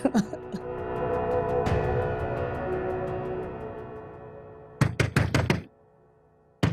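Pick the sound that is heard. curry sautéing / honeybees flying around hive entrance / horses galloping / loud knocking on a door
loud knocking on a door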